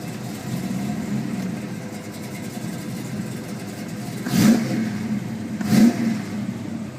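A 1972 Chevelle SS 454 V8 running just after starting, a steady low idle rumble with two short revs swelling up near the end, close and alone without talk.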